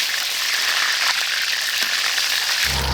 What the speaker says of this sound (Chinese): 我们先炒肉，这有肥肉，先下点肥肉炒一下